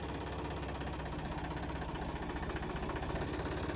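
A 4x4 tractor engine runs quietly, holding a steady low, even drone with a faint rhythmic knock throughout and no voices.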